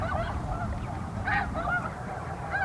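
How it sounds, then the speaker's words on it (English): Snow geese honking at a pond, a flock calling in repeated nasal honks over a steady low background rumble, fairly close and continuous throughout. "That's where I found these snow geese."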